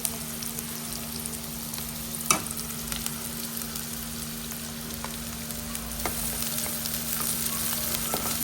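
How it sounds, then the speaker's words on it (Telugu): Onions sizzle steadily in hot oil in a kadai for a home-cooked chicken fry, a dense continuous frying hiss with a single sharp clink partway through and no voices. "డైరెక్ట్గా ఆయిల్లో ఆనియన్స్ వేసేసాను"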